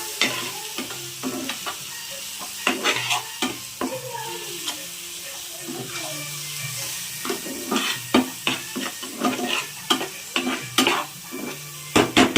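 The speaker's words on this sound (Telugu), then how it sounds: "ఇవన్నీ వేసేసుకొని బాగా కలుపుకోవాలి." Chilli powder and spices are mixed in a pan with a steady sizzle underneath and repeated scraping, tapping strokes of a spoon against the pan, close and clear with no talking.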